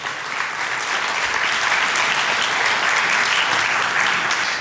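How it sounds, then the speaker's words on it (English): Steady audience applause fills the space, many hands clapping continuously at an even, loud level throughout. "Let's give another round of applause to our Ambassador Corral."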